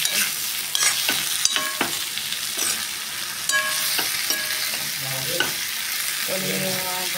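White bitter gourd being stir-fried in a pan, with a continuous sizzle under repeated scraping and stirring strokes of a spatula, close and fairly loud, no talking.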